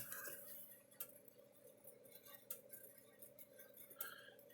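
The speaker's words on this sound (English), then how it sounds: "not very loud, and it's clicking kind of fast. It's like every half a second, and it's really quiet." Faint, sharp clicks tick about every half second over a quiet electrical hum from a 110-120 volt Speedrite SM 2400 electric fence charger under repair, soft and close, with no voices.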